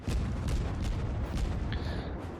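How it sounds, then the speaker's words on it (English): Warship cannons fire in the naval combat game World of Warships, a dense series of deep booming shots rolling over one another, loud and close, with a brief higher whistle near the end. "I try and have a little shot at them there, but the arc of the cannons aren't quite high enough to get over the island there"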